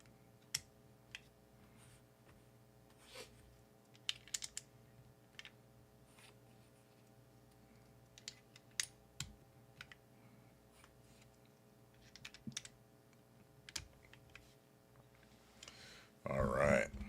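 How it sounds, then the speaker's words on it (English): Keyboard typing on deep-sounding keycaps, with sparse, soft keystrokes ticking irregularly over a low, steady hum and a brief louder rustle at the end. "These are really deep sounding keycaps, huh?"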